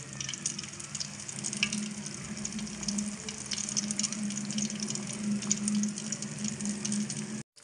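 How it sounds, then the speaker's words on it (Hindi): Fish fries in hot oil in a village kitchen in Pakistan, making a steady, close, continuous sizzle and crackle with a low bubbling hum underneath, unbroken until it stops abruptly at the end. "इसी तरीके से हम सारी मच्छी को फ्राई कर लेंगे।"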